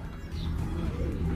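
Domestic pigeon cooing softly in a close indoor setting, a low murmuring coo that carries on steadily through the short stretch.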